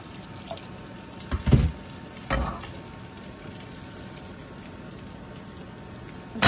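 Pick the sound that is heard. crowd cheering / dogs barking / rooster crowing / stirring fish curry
stirring fish curry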